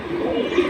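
A pigeon, one of several fancy breeds kept for sale, coos in a low continuous burble through the short moment, close and fairly steady, with no talk over it.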